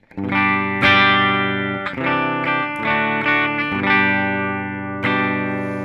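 Clean electric guitar through a Kemper Profiler Player's Dumble-style amp profile rings out in chords and single notes, warm and sustained with a little ambience, no vocals.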